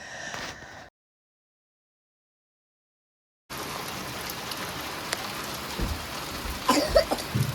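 Heavy rain with hail, a dense, loud hiss of drops drumming on surfaces that starts abruptly after a brief silence, with a cough-like sound near the end.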